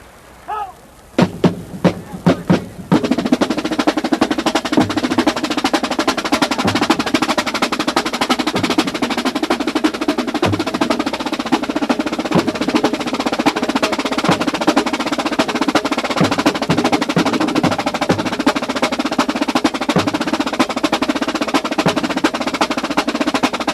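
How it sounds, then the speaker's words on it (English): Drum corps snare line playing a dense, fast cadence of six-stroke rolls and drag rudiments, starting with a few isolated sharp hits before launching into a continuous loud, crackling rattle of strokes. "Listen for six-stroke rolls, which at this time was somewhat of a new rudiment"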